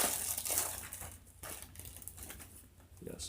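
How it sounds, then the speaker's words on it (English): Loud plastic packaging rattles and crinkles while items from an Adventure Medical Kits Grizzly first aid kit are handled, in irregular close crackling bursts with no voice. "Don't talk when you're rattling loud plastic."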